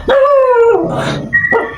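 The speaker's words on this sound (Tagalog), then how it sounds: "May aso. Aso ba?" A dog gives a couple of close, loud, drawn-out whining barks, the second shorter and higher, with no voices over it.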